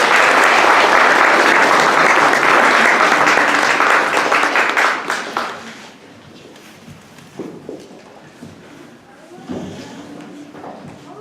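Audience applause welcoming Ralph Goodale, Canada's Minister of Public Safety, to the stage: dense, loud clapping from a large crowd that tapers off after about five seconds into scattered claps, footsteps and faint murmuring voices.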